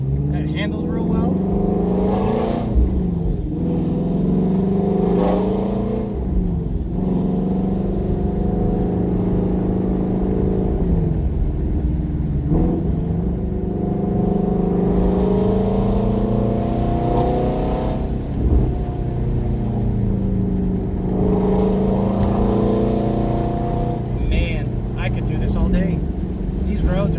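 A twin-turbocharged Ford GT350 running on E85 drives along winding roads, its engine droning steadily throughout with occasional swells as it revs, while someone talks over it.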